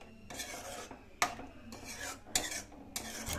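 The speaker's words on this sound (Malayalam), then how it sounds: "തൈര് ഒഴിച്ചതിന് ശേഷം എല്ലാം പറ്റി പിടിക്കാൻ വേണ്ടി നമുക്ക് ഇളക്കിയിട്ട് കൊടുക്കാം" Eggplant curry with curd is stirred in a pot, giving repeated bursts of spoon scraping and clinking against the metal, separated by short pauses, close and clear with no talk.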